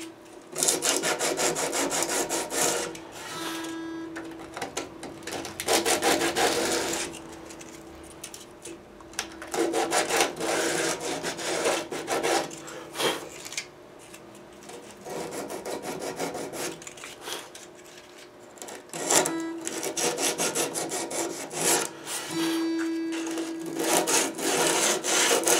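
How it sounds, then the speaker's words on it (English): The wood of a Gibson J-50 acoustic guitar is brushed with 80-grit sandpaper, giving close, scratchy rubbing strokes in uneven bursts with short pauses between them and no talk. "a very light, quick brush with the 80 grit, just to get all that"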